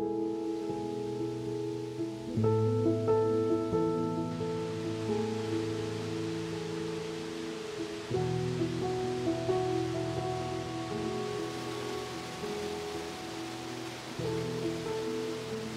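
A big waterfall at the rocky base of the falls sends up a steady, broad rushing roar through the whole stretch, partly covered by sustained, prominent instrumental music playing over it.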